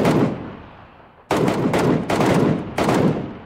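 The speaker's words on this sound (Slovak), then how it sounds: "Môžeme strieľať, keď chceš." Loud, close gunfire in an online battle-royale style video game, with one sustained burst followed by several rapid volleys in quick succession.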